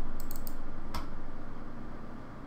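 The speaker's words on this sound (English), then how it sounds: "When I double click this," A computer mouse gives two quick sharp clicks near the start, then a single click about a second in, heard alone in a quiet room during photo-editing work.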